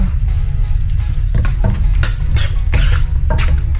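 Sweet paprika sauce for pasta sizzles steadily in a pan, a loud, continuous crackling fry with occasional soft stirring scrapes.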